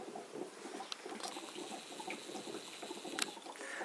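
Hydrogen gas from a homemade generator bubbling up through soapy water in a bubbler vessel, giving a steady close fizzing and gurgling patter with small pops throughout, no voices.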